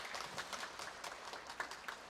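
A church congregation claps during a Sunday worship service, scattered, fairly quiet applause with irregular individual claps.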